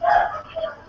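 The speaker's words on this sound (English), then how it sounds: "I hope you're not hearing the dogs bark so loud." A single loud, close dog bark, sharp and brief, with a smaller second yap trailing right after.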